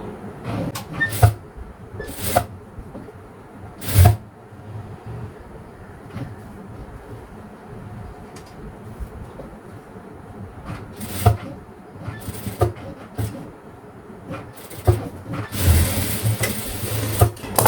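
A sewing machine stitches a scallop-neck halter blouse in intermittent runs, with short loud bursts of whirring needle action separated by quieter pauses and handling noise. No one speaks.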